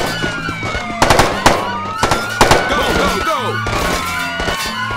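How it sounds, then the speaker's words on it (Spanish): Grenade explosions in a police, SWAT and FBI versus military shooter video game, several sharp bursts and pops scattered across a busy battle mix, with voices talking over the action. "Nos están tirando granadas."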